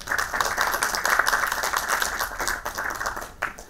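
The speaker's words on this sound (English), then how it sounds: "Applause." Applause from a conference audience welcoming a speaker to a data science talk, a dense even patter of many hands clapping, steady and fairly near, then easing slightly toward the end.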